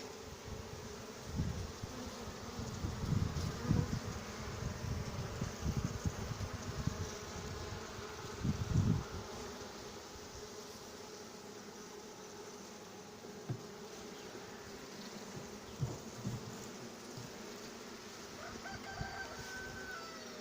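Honey bees buzzing around an opened hive during colony splitting, a faint steady hum with scattered soft bumps and handling noises, a rooster crowing in the background.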